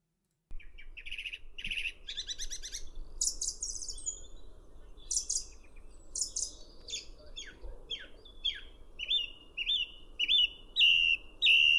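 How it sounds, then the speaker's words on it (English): A recorded song thrush sings a lively run of varied, repeated chirping phrases that grow louder and more insistent toward the end, heard alone over a faint background hiss. "The song thrush."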